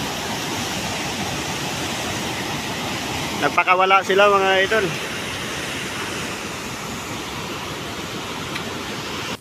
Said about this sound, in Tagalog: ang lakas ng agos ng tubig yan